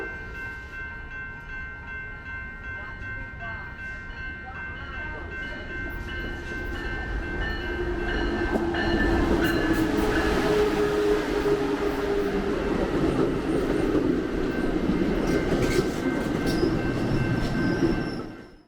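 An Amtrak passenger train rumbles into a station, growing louder as it approaches, with wheel squeal and a steady heavy roar before it fades at the very end.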